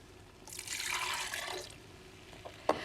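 Water gushes and splashes steadily into a blender for about a second, then trickles off, followed by a brief clink near the end.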